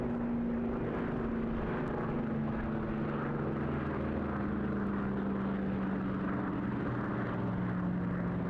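A display aircraft roars overhead at a seaside airshow, a loud, continuous engine drone whose pitch slowly falls as it passes, with no voices.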